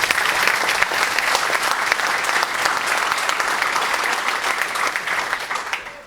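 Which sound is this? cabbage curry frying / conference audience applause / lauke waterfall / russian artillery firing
conference audience applause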